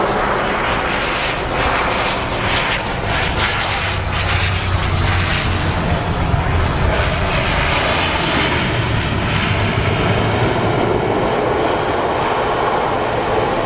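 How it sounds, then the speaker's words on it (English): An Airbus A350-1000 jet taxiing at the Farnborough Airshow, its engines a steady, loud, broadband roar that holds for the whole stretch with no voices over it. "You've got the 350 taxiing in position, Johnny."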